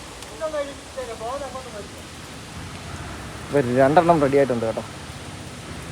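Steady rain hisses outdoors where a delivery truck is parked, a constant wash of noise running beneath a voice speaking in short bursts.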